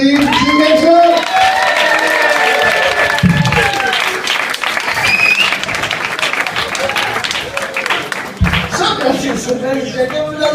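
Comedy club audience applauding a stand-up comedian in a cafe in Utrecht, steady dense clapping with crowd murmur and laughter, mixed with overlapping talk throughout.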